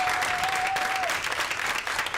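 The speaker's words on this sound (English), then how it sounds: "cheering loudly" Packed room of parents and educators at a budget meeting clapping and cheering loudly, dense sustained applause with a shrill whistle cutting through at the start.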